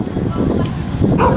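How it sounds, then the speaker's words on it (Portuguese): A dog barks repeatedly in a town square beside a Catholic church, short yapping barks mixed with people talking nearby over steady street background. "E o cachorro não para de latir"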